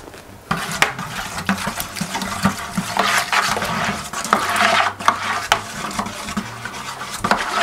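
A spoon stirs a home wine kit mixture in a container, giving repeated clinking and swishing strokes through liquid, fairly close and steady, with no talking.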